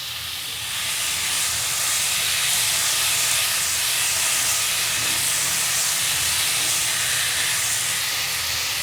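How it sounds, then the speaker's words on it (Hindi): Chicken pieces cooking in a pan over a high flame for cutlets, giving a loud, steady broadband hiss and sizzle that holds evenly throughout with no talking. "एक पैन में हम ये चिकन को ऐड कर देंगे। हमने फ्लेम को अभी हाई रखा है।"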